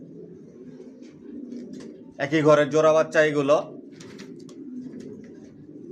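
Young racing pigeons in a home loft give a short burst of soft cooing in the middle, with quieter coos before and after, while someone talks over them.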